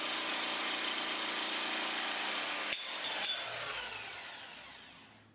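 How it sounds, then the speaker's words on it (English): A Bosch GST 150 jigsaw with a tungsten-coated blade cuts ceramic wall tiles, a steady harsh buzzing grind for a few seconds that stops abruptly and leaves a fading motor whir, close and alone. "fit a tungsten coated blade to cut ceramic wall tiles"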